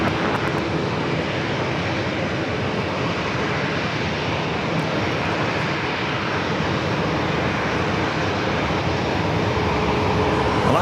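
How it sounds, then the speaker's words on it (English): Alaska Airlines Boeing 737 MAX 9 departing San Diego for Tampa, Florida, a continuous, even jet rumble at middling distance with no voices. "Alaska flight heading to Tampa, Florida"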